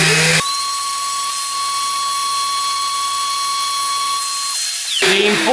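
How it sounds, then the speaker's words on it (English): A powered sander buzzes with a steady high-pitched whine as it sands a laser engraving backfilled with Timbermate wood filler. The whine starts abruptly, holds for several seconds and then cuts off, with a short spin-down at the end. "is to keep the sander flat and not try and put any undue pressure on it"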